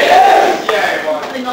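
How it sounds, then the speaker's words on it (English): Audience at a stand-up comedy set, a dense wash of crowd noise like clapping and cheering, loud and sustained throughout with no pauses. "You can stop the applause"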